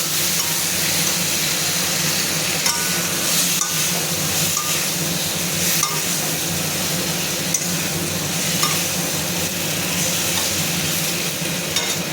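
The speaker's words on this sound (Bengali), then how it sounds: "এখন একটু মশলার সঙ্গে ভালো করে কষিয়ে নিতে হবে" Taro stems being stirred and fried with spices in a little oil: a continuous close, loud sizzle with scraping stirs and small clinks throughout, and no voices.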